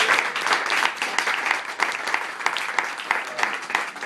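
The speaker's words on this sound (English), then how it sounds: "let's give Vern Stewart a round of applause" Audience applause following a fireside chat interview, a steady wash of many hands clapping at close range that holds throughout without fading, with a few louder individual claps standing out from the crowd.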